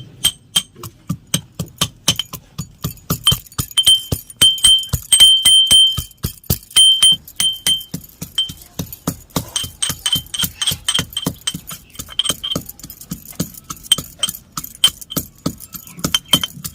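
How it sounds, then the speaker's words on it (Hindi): Green chili, ginger and garlic are pounded together in a mortar for a chickpea-leaf curry, giving a long run of sharp, close knocks in uneven rhythm, some clinking, with a few brief gaps between bursts. "हमने लहसुन और अदरक और मिर्ची को कुचल लिया है"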